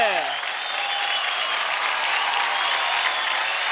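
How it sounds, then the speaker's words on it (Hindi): Studio audience on a televised dance show applauding after a couple's dance performance, a dense, loud and steady wash of clapping that fills the whole stretch, with a brief musical tail fading at the very start. "जोरदार तालियां हो जाए क्रॉस और स्नेहा जी के लिए"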